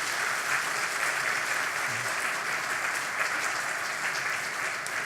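Church congregation applauding during a deacon appointment ceremony in a Sunday worship service, an even, continuous wash of many hands clapping at moderate distance, steady throughout.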